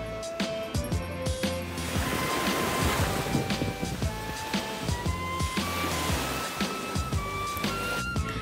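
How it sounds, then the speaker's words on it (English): Beach ambience at Aureo Resort in San Fernando, La Union, Philippines: steady surf washing ashore in a continuous broad rush, with faint tonal background sounds running through it and no talking. "Time to go to the beach."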